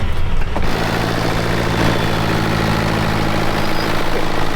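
A tractor belching black smoke drones steadily as it drags a cultivator across the ground, a loud continuous low engine rumble with a sharp knock near the start and no speech.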